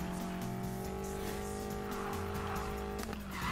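A car turning around in Need for Speed Payback keeps a steady engine drone with squealing tires and shifting pitch throughout, loud and close, with no talking.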